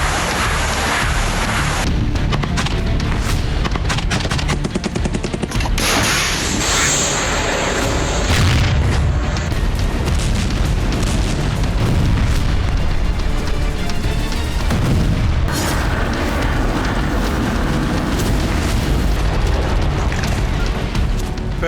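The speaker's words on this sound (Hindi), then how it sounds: "फिर अवदिव्का में रूसी सेना का बारूदी प्रहार देखा" Russian army artillery bombardment in Avdiivka makes a dense, loud, continuous rumbling roar of blasts and booms that runs without a break, with no clear gaps between impacts.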